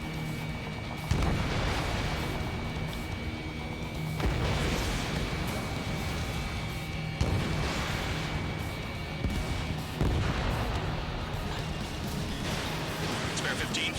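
Missile launches and explosions in the video game Ace Combat 7, a dense roar broken by heavy booming bursts every few seconds, loud and continuous throughout.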